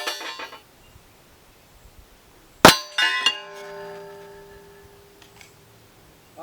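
A bullet strikes an AR450 steel swinger target plate with one sharp, loud metallic clang, then a second hit follows, each leaving a long ringing tone that slowly fades, outdoors at a shooting range.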